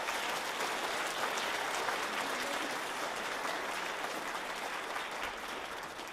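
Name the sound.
audience applause at choir concert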